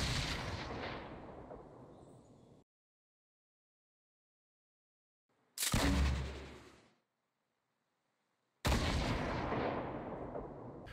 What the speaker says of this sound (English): You'll know the distance is right if you shoot the grenade and it explodes right on top of the enemy base